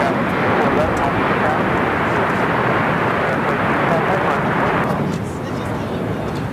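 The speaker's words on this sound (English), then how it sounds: "It's a Gulfstream 5 taking off" Gulfstream 5 jet taking off at LAX, a loud, broad roar of engine thrust that holds steady and then eases slightly near the end, with talk over it.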